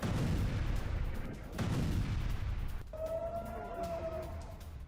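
Explosions from a ballistic missile attack in news footage, heard as continuous loud rumbling booms that dip briefly then return, followed by a lower roar with a sustained siren-like tone layered on top.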